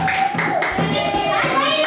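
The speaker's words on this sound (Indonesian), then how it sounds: "Gesek tepuk tangan untuk Rizky." Classroom applause for a student who answered correctly, a burst of many hands clapping mixed with children's voices and a teacher talking over it, steady and close.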